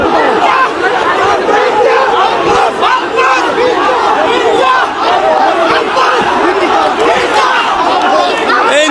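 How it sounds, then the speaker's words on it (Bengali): A dense crowd of protesters chants 'bhuya bhuya' slogans around BNP candidate Mirza Abbas at a tense Dhaka-8 political rally, a loud continuous roar of many voices shouting together close by. "চতুর্দিকে সকলে কিন্তু ভুয়া ভুয়া স্লোগান দিচ্ছেন"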